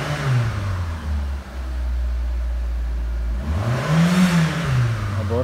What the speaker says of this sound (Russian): Обороты набирает плавно.